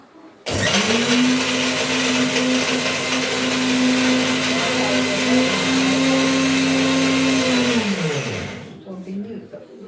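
A mixer grinder grinds roasted spices for sambar, a loud steady whir holding a constant pitch for about eight seconds before winding down and stopping.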